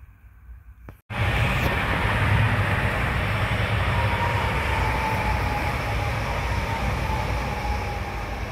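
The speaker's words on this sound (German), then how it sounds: "Durchfahrt der HLB Flirts nach" An HLB Flirt passenger train passes through a station at Groß-Karben with a sudden loud onset, then a steady, sustained roar and rail rumble that eases only slightly toward the end.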